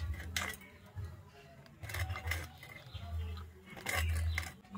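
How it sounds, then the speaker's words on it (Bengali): A knife works through a whole foli fish being prepared for steaming, giving a few scraping, clinking cuts against a hard surface in short bursts, with a voice talking between them. "এবারে মাছটা আমি কেটে নেব।"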